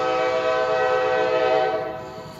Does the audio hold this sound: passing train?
yes